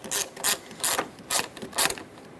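A socket ratchet with an 8mm socket snugs up a battery terminal on a Ford E-350, giving five short bursts of close clicking at a steady rhythm with brief pauses between them.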